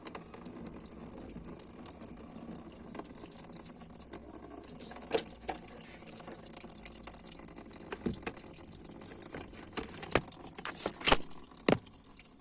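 Antifreeze drains from a Hyundai Accent radiator with its cap removed, giving a steady close trickle and patter of liquid with a few sharper splashes and clanks toward the end.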